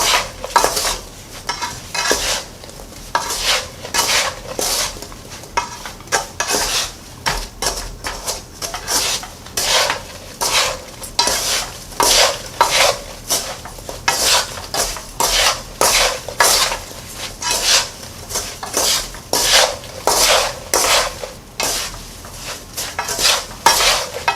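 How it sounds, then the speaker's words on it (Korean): Sliced ginger stirred through thick, reduced sugar syrup in a pan with the heat off: steady, rhythmic scraping and clinking of a utensil against the pan, loud and close, repeating continuously with no voices. "불을 끄고 잘 이렇게 섞어주세요."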